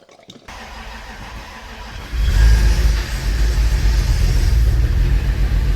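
An Audi engine cranks after a short click, catches and then runs with a loud, steady low rumble close by, briefly revving before settling into an even idle.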